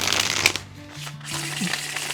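A tarot deck printed on smooth cardstock is shuffled up close, giving a rapid riffling flutter of cards with short pauses between bursts and faint voices in the background.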